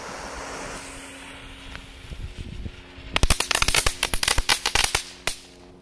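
Crackling ball fireworks, legal consumer type, set off in the evening: a rapid burst of sharp crackling pops and snaps starts after a brief hiss and continues loudly for a few seconds, with outdoor wind noise underneath.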